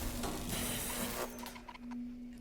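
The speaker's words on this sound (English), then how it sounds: "Sounds like the door lock was released." A video game door lock releases after a button press: a faint mechanical whir followed by a short series of clicks over a low steady hum.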